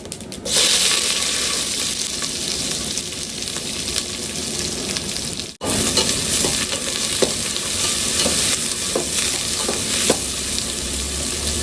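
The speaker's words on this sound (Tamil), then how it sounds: "எண்ணெய் சட்டுன்னு காஞ்சிடும் பா இதில் வந்து வெங்காயம் தக்காளி எல்லாம் கட் பண்ணி வச்சுருக்கேன் பட்டை லவங்க எல்லாம் போட்டுக்கிறேன்" Cinnamon and cloves fry in hot oil in a home kitchen for a mutton intestine curry, giving a steady close sizzle with scraping stirs throughout and a brief dropout near the middle.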